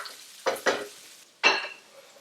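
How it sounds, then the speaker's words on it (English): Shiitake mushrooms and pork belly frying in hot oil and being stirred in a pan, giving three short, close scraping bursts over a soft, steady sizzle. "we're going to cook it so the mushroom could soak up all the oil"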